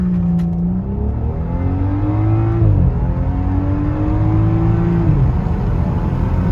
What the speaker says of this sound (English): floor the brake pedal and then floor the gas.